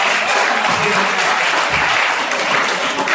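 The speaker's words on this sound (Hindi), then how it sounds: "एक बार जोरदार तालियां बजा दो" Loud, dense applause from an audience at a college freshers' party, steady clapping throughout with no pauses.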